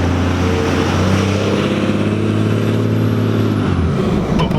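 Cummins diesel truck under way, a loud close engine drone with steady low harmonics and a high turbo whistle running above it, then easing off near the end.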